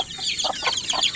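Farm chickens give three or four soft, close clucks in quick succession against a faint background.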